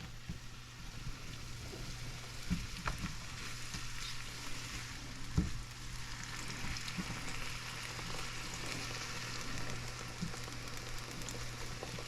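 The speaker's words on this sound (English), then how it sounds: "Saute for about 5 minutes." Smoked herring fillets sautéing for breakfast in a pan, a steady, soft hiss of frying with a few quiet stirring taps scattered through, no voices.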